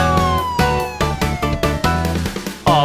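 Cartoon police car siren in a children's animation: a bright, pulsing electronic wail repeating in quick, regular bursts with a sliding tone, loud and alone.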